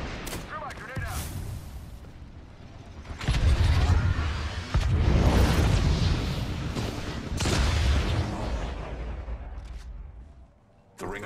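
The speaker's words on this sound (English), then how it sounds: "Throw my grenade out." A grenade goes off in an online shooter match, heavy booming blasts and rumbling detonations rolling over several seconds, loud and close, with gunfire crackling around them.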